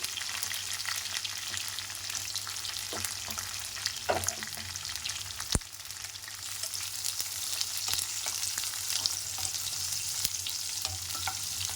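Chopped onions frying in hot oil with mint for Telugu gongura chicken, a steady close sizzle throughout with occasional clinks and scrapes of a stirring spoon against the pan.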